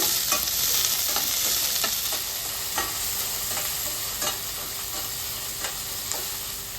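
Pieces of kallinkaya pickle fry in hot oil with a continuous bright sizzle, punctuated by regular scraping clicks from a spoon stirring the pan, gradually settling slightly quieter.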